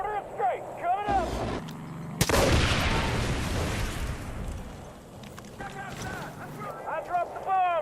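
An air-dropped bomb explodes on snipers on a ranch rooftop in Far Cry 5. One sharp blast bursts out loudly, then a rumbling roar slowly fades, with excited talk before and after and engine-like whines around it.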